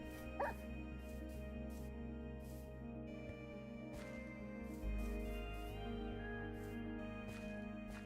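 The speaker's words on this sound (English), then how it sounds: "the new dog sounds are really bad" Dog sounds from the Minecraft video game: faint yips and whimpers over a steady droning game background, with a louder low thump near the end.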